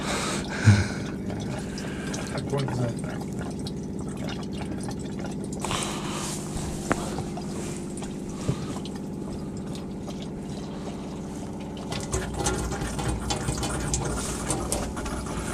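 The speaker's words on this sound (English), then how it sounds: "So as you can see now, the tank's filling up," Water rushes steadily into a motorhome's water tank, a continuous gushing flow over a low mechanical hum, fairly close and moderately loud.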